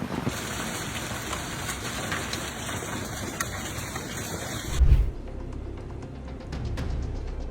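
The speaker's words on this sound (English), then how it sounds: "Hail poured down on northwestern Arkansas after thunderstorms passed." Heavy hail falling after thunderstorms in northwestern Arkansas, a dense continuous clatter of ice on surfaces that abruptly drops to a quieter patter partway through, with a brief low thump.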